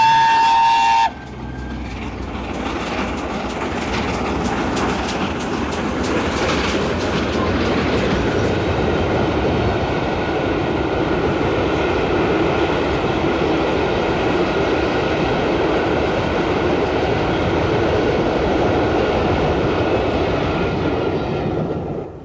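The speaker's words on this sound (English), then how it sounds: "And here we see Mallard leaving York." Mallard, a steam locomotive, pulls away from York with a long, steady rumble of wheels and train running noise, loud and close, opening with a brief high whistle-like tone before the continuous roar.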